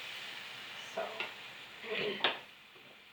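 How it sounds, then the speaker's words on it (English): Chutney ingredients fry in a pan with a steady, faint sizzle, broken by a few brief scrapes and stirring clatters up close. "right, so that's the frying"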